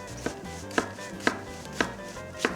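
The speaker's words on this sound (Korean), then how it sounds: "반으로 갈라주신 뒤에 양파와 마찬가지로 깍둑 썰어 준비해 주시는 거예요" A knife dices a halved zucchini into thick cubes on a cutting board, striking in five evenly spaced, crisp chops that stand alone without any talk.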